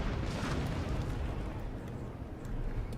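Cannons fire canister shot in Napoleon Total War, a dense continuous rumble of booming artillery and crackling bursts at moderate distance, with no clear gaps.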